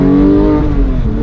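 Loud, close exhaust note from a manual 991.2 Porsche 911 GT3 engine being revved, a dense, steady, high-pitched roar that holds briefly and then eases slightly.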